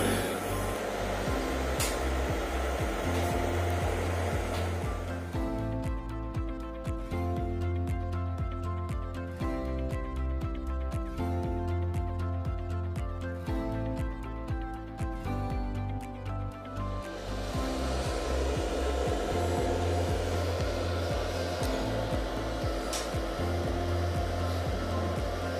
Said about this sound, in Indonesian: kita nyalakan kipas.